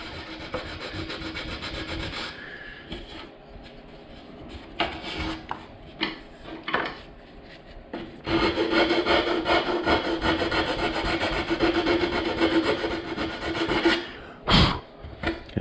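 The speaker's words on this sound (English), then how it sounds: "I can still sand through and take those burrs off" Sandpaper wrapped on a 3/8 inch dowel rubbing along MDO plywood edges to take off burrs, with close, raspy scraping strokes that come in uneven bursts and turn into a longer, steadier run of sanding.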